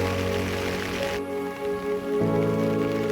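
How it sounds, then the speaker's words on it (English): Steady rain patters on a surface close by in Fort Kochi, Kerala, a continuous wash of drops with a faint hum underneath. "It's raining,"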